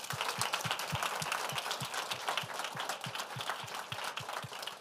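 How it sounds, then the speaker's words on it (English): An audience at a corporate speaker series event gives a brief round of applause: dense, steady clapping from a crowd that fills the room for a few seconds. "Quick round of applause for them."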